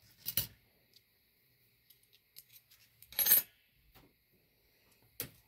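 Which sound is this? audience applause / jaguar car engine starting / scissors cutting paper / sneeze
scissors cutting paper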